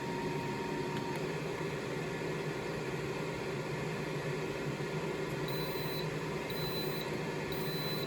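An Instant Pot air fryer lid runs while cooking bacon, giving a steady close fan whir with faint periodic electronic beeps near the end, and no one speaking.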